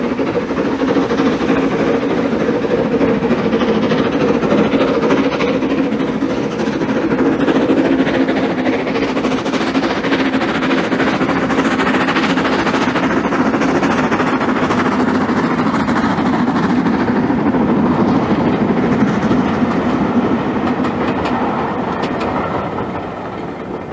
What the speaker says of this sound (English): This goods train illustrates the engine's real role.